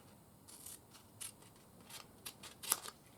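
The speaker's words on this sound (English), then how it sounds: "I'm going to stretch it out and then I'm going to cut it so it doesn't overlap right there" Scissors snip through a piece of tape in a workshop during a hydraulic cylinder rebuild, several quiet, close, irregular crisp cuts alone against faint background noise.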